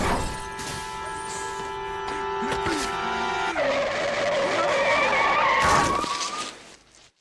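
Animated scene of a white sedan skidding with loud screeching tires, sustained squeal building over several seconds, followed by a sharp impact as it strikes a man, then quickly fading.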